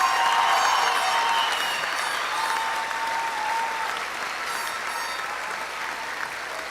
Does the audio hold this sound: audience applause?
yes